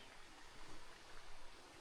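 Mountain stream flowing near a mountain, a dense continuous broadband rush of water that stays steady and fairly close, with no voices.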